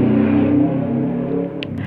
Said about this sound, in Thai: รถขับผ่านหน้าบ้านนี่คือจะรุนแรงๆตลอดเลยนะ